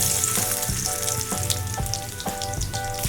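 Chopped garlic fries in about two tablespoons of oil as a tempering for Bangladeshi-style dal, a dense close crackling sizzle with regular spoon strokes stirring through it.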